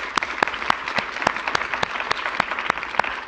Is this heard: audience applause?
yes